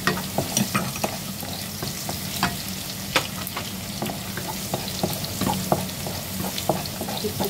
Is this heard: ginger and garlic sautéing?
yes